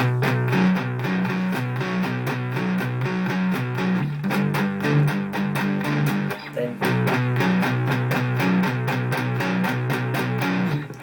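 A distorted electric guitar plays a repeating chugging intro riff in a steady rhythm, loud and up close, with no one speaking.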